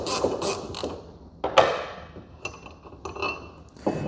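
Light metallic clinks, taps and creaks from a fuel relief valve being unscrewed the rest of the way out of a fuel rail, a few scattered close handling sounds in a quiet space.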